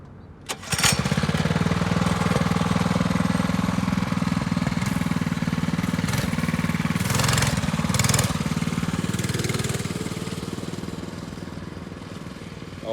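A small mini bike engine starts abruptly and runs at a steady loud buzzing drone for several seconds, with a couple of short throttle blips before it eases slightly toward the end.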